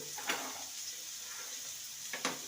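Potatoes frying in a pan with turmeric and salt give a soft, steady sizzle, with two brief louder stirring scrapes near the start and end; no one speaks.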